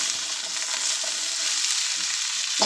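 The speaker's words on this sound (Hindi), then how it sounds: "अब हम इस घी डाल दें, जितनी आपको ज़रूरत होगी आप उतना घी इसमें डालें" Bitter gourd frying in about two spoons of ghee gives a steady, close, hissing sizzle throughout, ending with a light clink of a utensil, with no voices.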